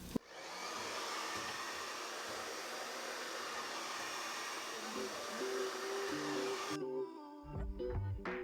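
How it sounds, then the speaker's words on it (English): A hair dryer blows steadily as hair is blow dried during a DIY silk press on type 4 hair, a loud constant whooshing roar for several seconds that cuts off abruptly near the end. "And then I just go in and blow dry."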